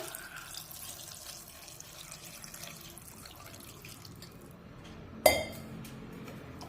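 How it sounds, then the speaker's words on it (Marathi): Water pours steadily into a pan of sautéed vegetables for pav bhaji for several seconds, ending with a sharp metallic clink. "आता यामध्ये या भाज्या बुडतील इतपतच पाणी टाकायचं"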